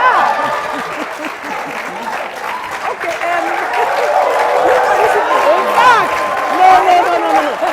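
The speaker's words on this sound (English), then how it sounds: "Why are you clapping? Even the women you are clapping." A seated audience at a talk on polygamy breaks into loud, sustained applause, a thick wash of clapping that swells toward the end, while voices and laughter carry through underneath.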